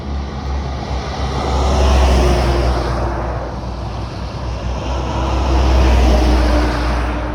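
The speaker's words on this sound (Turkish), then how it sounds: "Birçok kamyon geçiyor." Trucks pass on a highway at night with a loud, continuous low roar that swells and fades as the vehicles go by close to the roadside, with wind buffeting the microphone.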